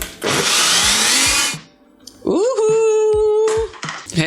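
A blender roars while whirring soaked cashews into a vegan cheese sauce, a loud dense blast lasting about a second and a half before it cuts off, followed by speech.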